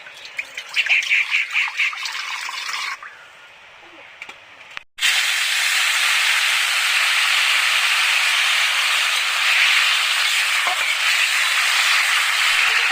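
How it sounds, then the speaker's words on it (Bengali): Water hits a hot pan of fried okra with a sudden loud hiss that settles into a steady, sustained sizzle, following a few seconds of crackling frying. "এরপরে আমি দিয়ে দিচ্ছি জল"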